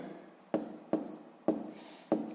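Pen marking paper during a sixth-grade maths exercise, four short scratchy strokes at roughly even spacing, close and quiet with no voices.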